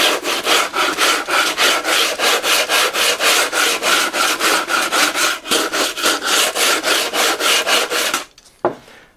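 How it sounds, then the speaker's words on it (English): Sandpaper fitted on a body file rubbed back and forth in quick, even strokes, loud and close for about eight seconds before stopping, followed by one last faint scrape. "there's some nice piece of sandpaper on that body file there"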